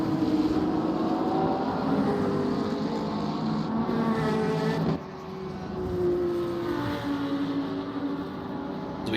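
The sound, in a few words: race cars roaring down the back straight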